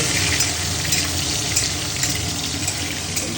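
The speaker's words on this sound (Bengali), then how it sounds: "কড়াইয়ে তেল দেওয়া হলো, তেল গরম হচ্ছে। তেজপাতা, আলু" Bay leaf and potatoes frying in hot oil in a wok, a dense, steady sizzle that fills the whole moment, loud and close with no voices.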